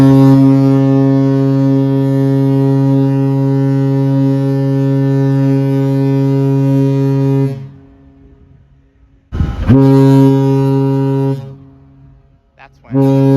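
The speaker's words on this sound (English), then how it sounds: "I decided to take a video of the ship's horn." A cruise ship's horn blasts a long, deep, loud steady tone close by, cuts off, then sounds a second long blast followed by a shorter one, with wind noise between.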